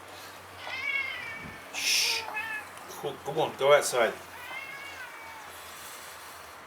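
A neighbour's cat meows several times in short, clear calls close by, while a person speaks quietly and intermittently over and between the meows.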